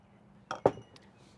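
Ice cubes clink against a glass as rosé wine is poured in for a simple drink, giving two quick, bright knocks close by in a quiet room.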